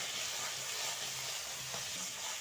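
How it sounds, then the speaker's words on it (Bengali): A spice paste of turmeric, salt and Kashmiri chilli sizzles and fries in hot oil, a steady soft hiss heard close without talk. "বাটনাটা ভালো করে ভেজে নিতে হবে।"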